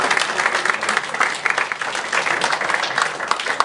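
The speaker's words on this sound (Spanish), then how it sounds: "Un aplauso para ellos." Dense, steady applause from a church audience, many hands clapping together at an even, lively level with no pause.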